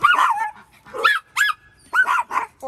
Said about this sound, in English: Four dogs.